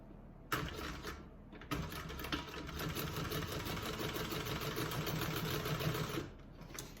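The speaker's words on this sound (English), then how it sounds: "you do want to back stitch the beginning and the end" Sewing machine stitching a bag, starting with a short burst, pausing briefly, then running in a steady, fast, close whirring hum for about four and a half seconds before slowing to a stop.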